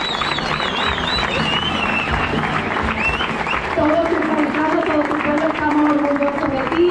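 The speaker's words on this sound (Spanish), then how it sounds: "Un fuertísimo aplauso" A crowd at an urban footrace in El Gastor applauds a 74-year-old veteran runner, steady clapping from many hands under a loudspeaker voice and whistling or cheering tones, loud and continuous.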